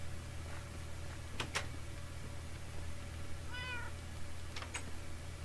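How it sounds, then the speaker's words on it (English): A Minecraft cat gives a single short meow midway, clear but modest, over a low steady background hum with a few faint clicks. "Is there a cat in here that's going to try to kill me?"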